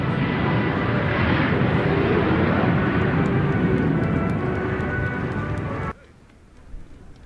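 Italian Frecce Tricolori MB339 jets roar loudly and steadily overhead at an airshow, a broad continuous engine rush that cuts off abruptly near the end, leaving quieter ambient sound.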